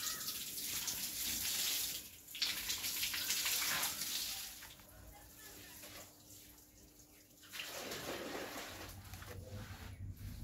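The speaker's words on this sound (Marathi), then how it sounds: "आता हे सगळं धुवून काढावं" Water is sluiced over a home's front doorstep after the rangoli has been cleared and the step swept, giving a steady rushing splash that eases into a quieter stretch midway before picking up again.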